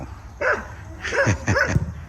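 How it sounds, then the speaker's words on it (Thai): A dog barks three times near the camera at a former temple residence site near an old school in Thailand, short yelping barks with a light rumble of background noise. "เจ้าถิ่นทักทายนะเห่า"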